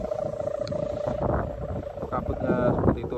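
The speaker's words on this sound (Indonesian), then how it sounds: "Anginnya kencang loh, bebel ini." Strong wind buffeting the microphone outdoors, a loud continuous rumbling roar that surges and eases, with voices faintly beneath.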